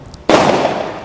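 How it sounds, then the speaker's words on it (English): A firework goes off in Libya, one loud, close burst with a crackling, hissing tail that lasts under a second before cutting off, after near silence. "they're shooting off some fireworks, a little scary."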